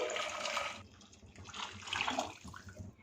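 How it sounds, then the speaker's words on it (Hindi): Chicken stock is poured into a pot of lightly browned chicken for soup, a close, steady splashing pour that tapers off partway and then resumes in softer gurgles. "चिकन पे लाइट सा सुनहरी रंग आ गया है, सो इसमें यखनी को शामिल कर देंगे।"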